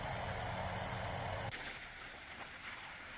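Naval guns in the game Sea Power fire at incoming missiles, a loud continuous roaring barrage that cuts off abruptly partway through and leaves a faint rumble.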